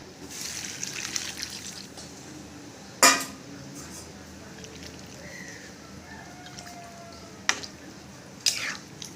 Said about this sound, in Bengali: এবার একটু জল দিয়ে 10 মিনিট ঢাকা দিয়ে রাখবো।